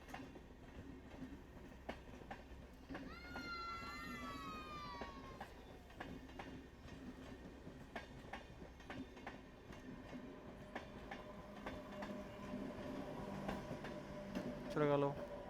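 An empty MEMU passenger train runs past on a rail line, a steady rumbling roll with wheel noise throughout and a brief horn-like tonal blast near the end, while a voice speaks briefly partway through.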